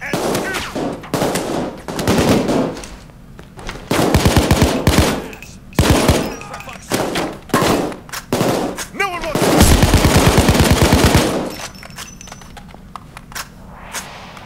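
Gunfire during a jewelry store heist in the video game Payday 2: loud, rapid automatic bursts and single shots in rough clusters, with a long sustained burst near the end.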